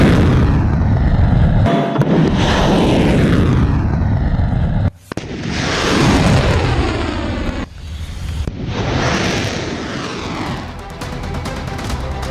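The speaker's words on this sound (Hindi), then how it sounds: "दागी जा रही हैं, एक के बाद एक लगातार ये मिसाइल" Missile strikes in news footage of the Middle East conflict, with loud, roaring blasts and whooshing booms that repeat one after another and fill the whole stretch.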